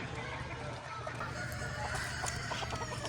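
Bantam chickens cluck and murmur at a chicken auction, a soft cluster of short fowl calls with occasional crow-like notes over quiet barn ambience, fairly faint and close.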